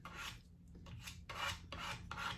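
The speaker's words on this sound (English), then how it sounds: "you could hear that noise of the stencil being scraped, or the spreader being scraped on the stencil" A spreader scrapes across a stencil on a Thanksgiving tray craft project, several faint rasping strokes in an uneven rhythm with short pauses between them, close up and alone.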